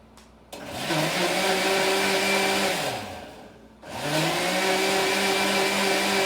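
Eggs being beaten for cornbread dressing with an electric mixer: a steady, close motor whine that runs, dies away for a moment, then spins back up to full speed. No one talks.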